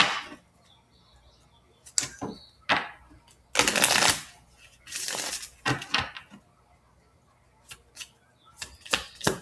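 Tarot cards are shuffled and drawn in a quiet room: soft riffling bursts and slaps come in uneven clusters, with small taps and flicks between them as cards are pulled and laid down, close and alone.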